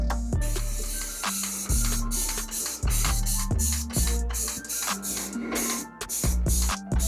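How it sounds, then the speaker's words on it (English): Repeated bursts of a spray bottle misting warm water onto a Wilson A2000 1791 baseball glove, a close, hissy series of squirts with short pauses between them and no talking. "We're going to spray it and then break it in that way."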